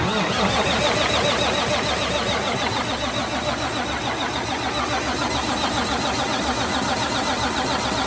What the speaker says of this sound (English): I'm gonna spin her a little more.